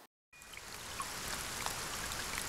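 Running water played back as white noise near a front door: after a moment of silence, a steady trickling, streaming rush starts and holds at a moderate, even level with small splashy details.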